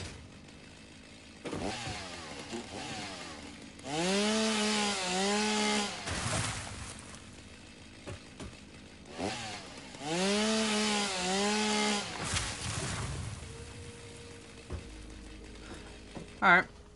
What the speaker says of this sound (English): Alright, time to go chainsaw.